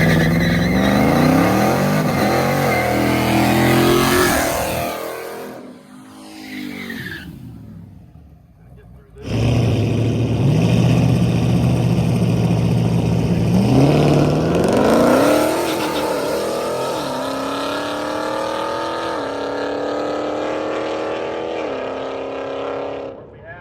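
Race cars in a group event roar past, engines rising and falling in pitch as they accelerate, fading briefly mid-way before surging back loud and sustained, with voices talking over the engine noise.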